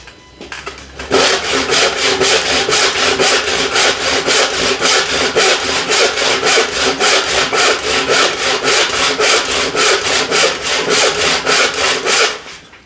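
A hand saw rips along a thick 8/4 walnut board. After a brief quiet start come about eleven seconds of loud, close, evenly paced rasping strokes.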